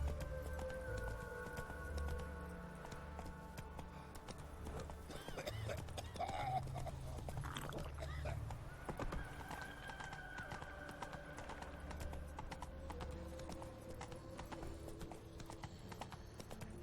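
Horse hooves clip-clopping in The Witcher 3 video game, a steady trotting rhythm running through the whole stretch under game music and spoken dialogue, with a brief whinny partway through.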